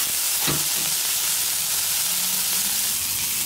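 Burgers sizzle on a Blackstone griddle, a steady, loud hiss of frying meat that fills the whole stretch, with a brief scrape or press near the start and no talking.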